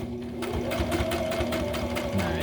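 A sewing machine stitches slowly through bulky backpack fabric, its needle thumping in a steady, close rhythm, running alone without talk.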